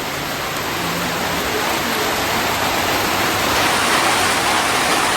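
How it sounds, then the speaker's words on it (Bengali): Heavy rain pouring down outdoors in Bengal, a loud, dense, unbroken hiss that holds steady throughout with no voices. "বৃষ্টি নেমেই গেল।"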